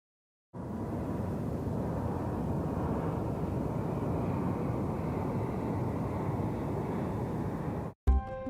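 A softer, smooth whooshing whir of a Joby electric air taxi in flight, an even broadband rush without rotor thumping, ending abruptly.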